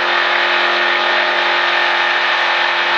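A sprint car engine on a race track at a driving experience, a steady, loud, continuous roar that holds under acceleration for the whole stretch, with no voices.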